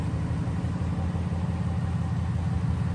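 Flood-damaged Porsche 911 Turbo engine running on its first start, a steady close rumbling idle with even low throb throughout, no voices.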